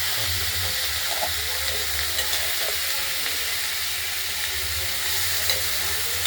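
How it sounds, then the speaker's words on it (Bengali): Small pieces of fish seasoned with turmeric sizzle in hot oil, a constant frying crackle and hiss close to the pan that carries on steadily throughout. "একটু ভাজা ভাজা হোক"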